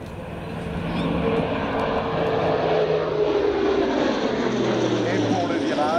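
An Airbus A400M turboprop aircraft pulling up during a tactical air display, heard as a loud, steady propeller and engine drone whose pitch shifts, with a commentator talking over it.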